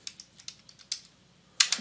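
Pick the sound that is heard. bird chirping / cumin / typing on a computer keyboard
typing on a computer keyboard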